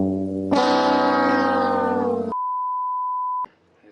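A steady electronic tone that holds for about a second and then cuts off abruptly, from a timer being set, following a loud harmonic distorted sound.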